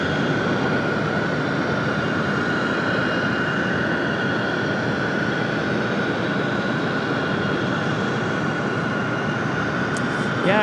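An American Airlines Boeing 777 takes off from Raleigh-Durham airport, producing a steady, broad jet roar at a moderate distance. The sound stays even for the whole stretch, and a faint voice is barely noticeable underneath it.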